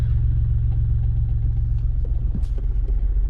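Car driven slowly during a driving lesson, heard from inside as a loud, steady low engine rumble with a brief thump partway through and no talk.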